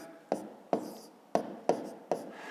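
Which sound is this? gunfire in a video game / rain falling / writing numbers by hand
writing numbers by hand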